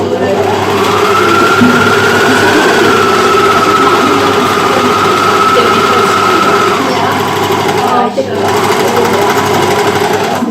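A sewing machine stitches steadily at close range with a loud, continuous motor whine that holds nearly the whole clip, briefly dips near the end and then resumes. The setting is a sewing lesson, and the stitching runs without anyone talking over it.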